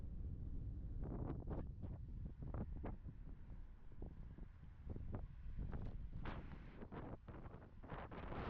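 Wind gusts into the microphone while someone is bike touring along the Danube in Hungary. It makes a steady low buffeting roar with brief sharper gusts breaking through, loud and close.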